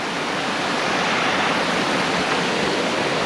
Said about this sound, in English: There's more and more waterfalls